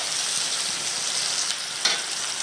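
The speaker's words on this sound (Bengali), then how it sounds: "পেঁয়াজটা ভাজা হোক ভালো করে" Chopped onions fry in a pan over tempered spices with a steady, close sizzle and one brief louder crackle near the end.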